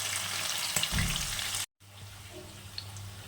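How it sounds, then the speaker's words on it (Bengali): Small bhola fish fry in mustard oil in a kadai with a busy, hissing sizzle. It breaks off for a moment, then returns softer and steadier with a few faint pops. "কড়াতে পরিমাণ মতন সর্ষের তেল দিয়েছি এবার ভোলা মাছটা ভেজে নেব"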